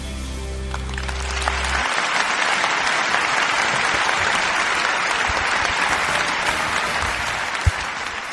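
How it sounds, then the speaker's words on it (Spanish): Congregation clapping in rhythm at a live church worship gathering, a dense, loud wall of hand claps sustained throughout after a brief sung or instrumental opening. "Vamos con tus palmas."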